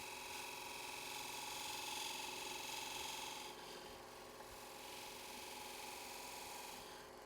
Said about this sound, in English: Switching back to my spindle gouge here for a moment.